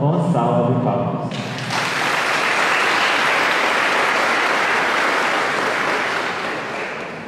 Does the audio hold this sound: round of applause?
yes